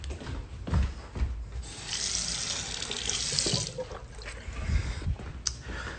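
Tap water runs into a sink for a drink, a steady broadband rush swelling in the middle and easing toward the end, close and fairly loud with no voices.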